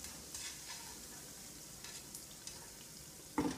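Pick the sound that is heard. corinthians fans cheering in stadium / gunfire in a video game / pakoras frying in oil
pakoras frying in oil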